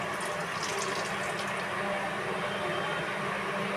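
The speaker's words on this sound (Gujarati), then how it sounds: "હવે ચોખાનું પાણી કાઢી દઈએ" Steady running water pours and splashes continuously as water drains off soaked rice, like liquid draining into a sink, with no voices present.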